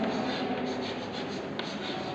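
Pen or pencil writing a word on paper during a primary school exercise, a steady close scratching and rubbing that runs for about two seconds with no talk over it.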